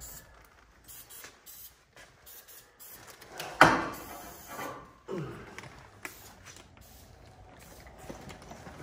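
Garage door hinges creak with a single loud, drawn-out groan at mid-clip, followed by a softer second creak and scattered faint mechanical knocks and rattles in a quiet space.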